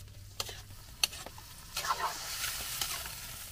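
Marinated goat meat for a countryside goat stew is stirred in a pot, giving a soft sizzle with scattered scraping clicks from the utensil, close and fairly quiet.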